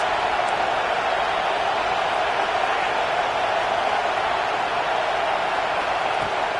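Dense, steady roar of a football stadium crowd at a Louisville vs Wisconsin bowl game, urging on the defense late in the game, loud and continuous throughout with no break.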